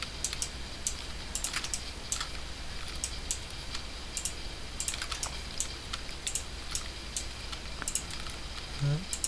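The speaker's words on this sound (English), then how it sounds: "And I'm using Shift and Control and left clicking." Keyboard keys and mouse buttons click in quick irregular bursts during 3D modeling work in Blender, close and fairly crisp over a low steady background hum.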